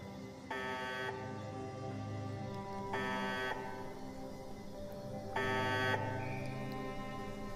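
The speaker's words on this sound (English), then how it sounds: "don't like the sound of that alarm" Three spaced electronic alarm blasts in Fallout 76, each a harsh buzzing tone lasting about half a second, sounding over a low ambient game drone.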